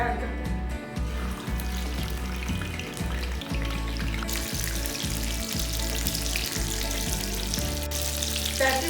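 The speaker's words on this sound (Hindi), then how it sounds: "अब हम इसके अंदर पैटीज ऐड करते हैं।" Chicken creamy box patties frying in hot oil: a constant dense sizzle throughout, with a low steady hum beneath and a voice speaking briefly over it.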